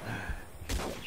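Gunfire from the video game Guns Up! comes as dense, loud crackling bursts, with a heavier thud partway through, filling the whole short stretch.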